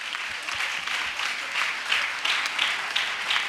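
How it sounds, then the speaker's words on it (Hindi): A congregation at a Sunday church service claps together in rhythmic, pulsing waves of applause, moderately loud and continuous. "जोर से ताली बजाए, खुदा की महिमा करे।"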